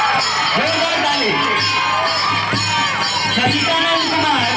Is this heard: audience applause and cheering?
yes